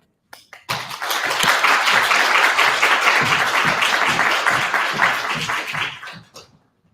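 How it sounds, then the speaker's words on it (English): A crowd applauds steadily for about six seconds, a dense wash of clapping that swells quickly and then tapers off at the end. "let's welcome our guests this evening with a round of applause"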